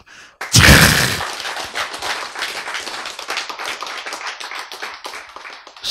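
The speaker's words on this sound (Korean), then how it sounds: "박수!" Sharp burst of audience clapping at a Korean lecture, starting loud and thinning into scattered claps that fade over several seconds.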